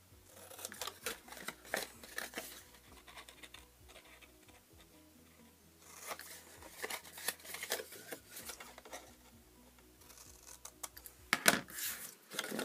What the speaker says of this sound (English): And then we're going to cut these little tabs off here.